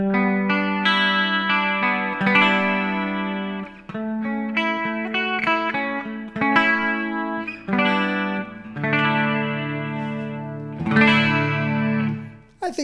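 Clean electric guitar chords and single notes through a NUX MG-101 multi-effects unit ringing out with a lush deluxe-style reverb tail and a shimmering chorus-like effect, played steadily with no talking.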